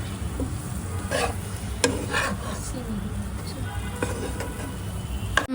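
Soaked chalta fruit being stirred into a pickle gravy in a pan, repeated soft scraping strokes of a spoon over a steady low sizzle and background hum, close by, with a sharp clink near the end.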